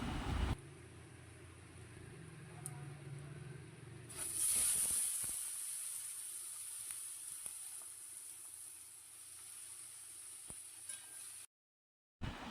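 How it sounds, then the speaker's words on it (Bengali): About 300 grams of chicken hits hot turmeric oil in a wok, bursting into a loud, steady sizzle that hisses on continuously after a quieter start. "এবার তেলের মধ্যে হলুদটা ভালোভাবে মিশে গেলে 300 গ্রাম মাংস কড়াইয়ের মধ্যে দিয়ে দেব"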